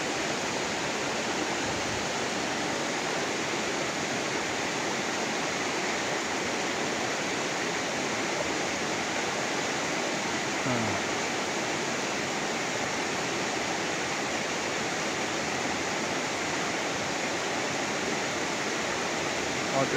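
Strong irrigation water feeding rice paddies near Mount Isarog in Camarines Sur, Philippines, rushes in a loud, unbroken roar that holds steady throughout.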